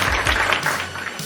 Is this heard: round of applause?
yes